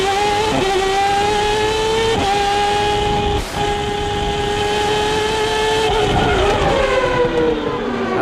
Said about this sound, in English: That's Gugnon in the Simtek